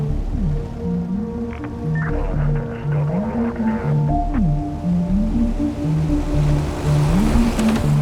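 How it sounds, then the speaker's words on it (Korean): Continuous watery rush of a boat moving across waves in the game Rust, with a low engine-like drone and tonal game music layered over it. "이렇게 과학자들이 보트를 타고 나오게 되는데"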